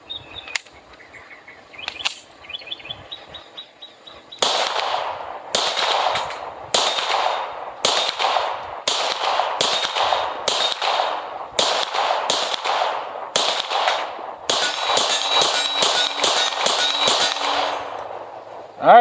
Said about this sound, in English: I'm probably going to go ahead and take a few shots at this plate rack and see if I can hit a few of the smaller targets